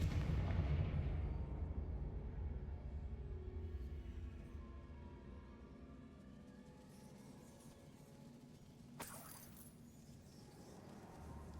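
A deep, booming blast from the Confringo fire spell in Hogwarts Legacy opens loud and close, then fades into a long rumbling tail with a brief crackle near the end.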